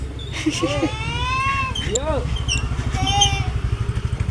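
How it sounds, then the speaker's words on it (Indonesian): Several motorcycles pass on a road, a steady engine drone running throughout under other voices and bleating-like whines, rising louder toward the end. "Banyak motor juga"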